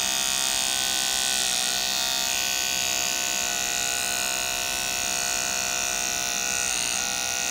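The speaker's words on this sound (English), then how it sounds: "Hold the clipper properly." An electric hair clipper buzzes continuously at close range during a haircut, a bright, steady high-pitched hum with slight changes in tone as it moves.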